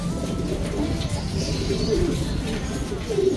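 A checkered racing pigeon coos softly at close range in a few low, rolling phrases. Steady background noise and faint chatter run underneath.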